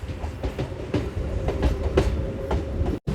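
A Bhimavaram to Machilipatnam MEMU express train runs along the track after leaving a station, with a steady rumble and rhythmic clickety-clack of wheels heard from inside the carriage.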